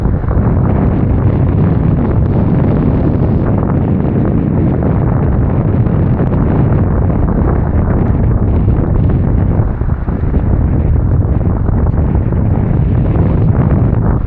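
Heavy wind buffeting the microphone at a fishing spot in a constant loud roar, rumbling and gusting without a break.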